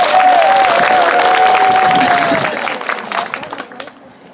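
Church congregation applauds a preacher at a welcoming ceremony, a loud burst of many hands clapping with cheering voices and a whistle, fading out over a few seconds.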